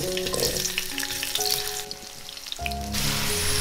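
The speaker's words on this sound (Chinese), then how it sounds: "油温热了，把配料放下来炸香。" Chopped aromatics frying in hot oil in a wok, a steady close sizzle and crackle with some faint tonal background music, no voices.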